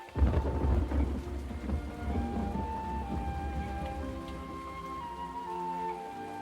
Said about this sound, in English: It has been raining solidly for a week.